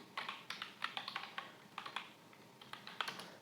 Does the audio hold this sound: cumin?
no